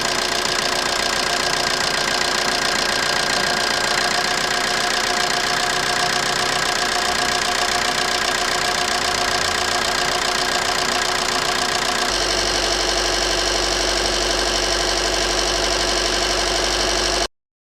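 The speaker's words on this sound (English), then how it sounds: "Start the engine and keep it running at idle RPM for 3 minutes" A car engine idles steadily during a fuel injector flow measurement test, with an even mechanical hum and light ticking, continuous throughout, the tone deepening slightly toward the end.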